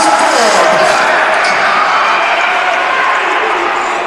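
A crowd roars steadily through a men's college volleyball match in a gym, a loud, dense wash of cheering that holds without a break from start to finish.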